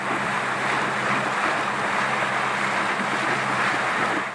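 A small boat with a 300 horsepower outboard runs over waves near a paddle steamer, giving a constant close rush of wind and water with a low engine hum underneath.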